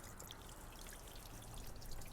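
Water running and trickling down the outside of a Mercedes SL body during a leak test, a faint soft continuous splashing stream, quiet and unbroken by talk.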